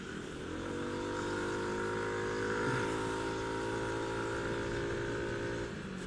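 A Yamaha Aerox scooter on a night street passes close by, its engine a steady loud drone with layered harmonic whine that swells slightly at mid-pass and then fades as it moves off.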